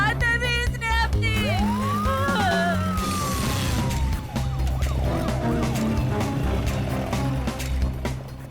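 An ambulance siren wails with a rising, falling sweep, loud and close, over busy music and other siren tones.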